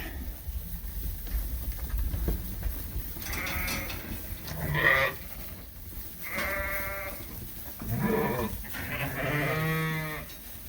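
Several sheep bleat in a pen, wavering calls from more than one animal at varied pitches and distances, spaced out over faint background noise.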